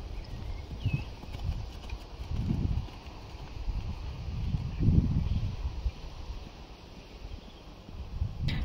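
A horse gallops in an elite club-level show jumping arena, its hoofbeats landing as a steady rhythm of soft, dull thuds under wind noise.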